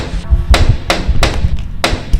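Someone raps on a door at night, with a run of close, heavy knocks spaced evenly, each a sharp thud, and no talk over them.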